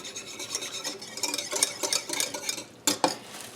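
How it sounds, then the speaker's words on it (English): A small whisk scrapes and stirs a homemade deodorant mixture in a bowl with quick, rhythmic rasping strokes, close and alone, ending with a couple of sharper clinks. "Grab my little whisk, give it a bit of a whisk"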